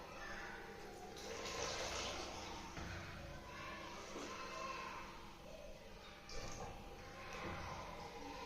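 Water is poured into a container to measure out litres for a classroom capacity activity, a continuous splashing, trickling flow that runs steadily throughout at moderate level, with faint voices in the background.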